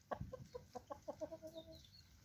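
Chickens and roosters in an enclosure after rain give a rapid run of soft clucks, a dozen or so short calls in quick rhythm, quiet and close with a faint background hiss.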